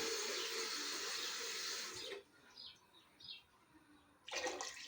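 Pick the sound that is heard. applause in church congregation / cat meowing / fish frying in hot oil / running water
running water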